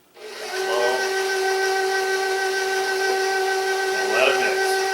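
A stand mixer runs steadily as dry ingredients for ice cream sandwiches are beaten in, giving a continuous close whine with a constant tonal hum and a brief louder swell near the end, no voices.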